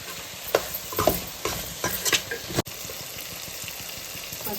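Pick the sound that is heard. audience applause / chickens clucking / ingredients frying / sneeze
ingredients frying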